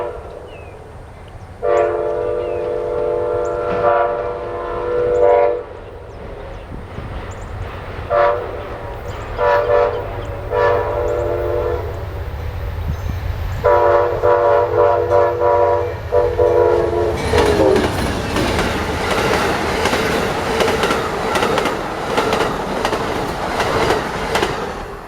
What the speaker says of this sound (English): Now the next train was Amtrak PO92, Silver Star northbound